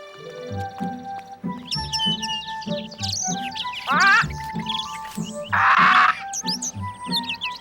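Cartoon birds chirp and tweet in bright, busy calls over a bouncy musical score, with squeaky trills and whistles layered throughout.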